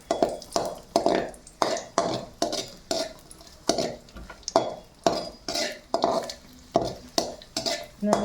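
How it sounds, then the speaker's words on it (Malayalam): Raisins fry in ghee for pumpkin payasam, a soft sizzle under a regular rhythm of spoon-against-pan stirring strokes, roughly two scrapes per second, close and clear. "ഇപ്പം മുന്തിരിയൊക്കെ ഒന്ന് വറുത്തെടുക്കാം."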